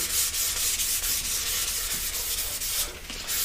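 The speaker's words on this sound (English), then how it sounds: "So with the edges, like I said, you can just use this piece of sandpaper." Sandpaper wrapped around a block rubs along the edges of a skateboard deck in a steady, hissing scrape. It sounds close and continuous, with slight rhythmic strokes.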